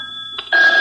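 A telephone rings in a home, a short bright electronic trill that starts abruptly and sounds loud and close.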